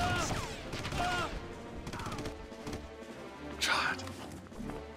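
Rapid gunfire bursts in the video game Red Faction crackle through a busy game mix, with a player talking over the shots.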